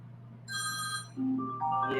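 A mobile phone rings at home with a bright electronic melody of repeated tonal notes, shifting pitch through the ringtone, fairly close and clear over a low background hum.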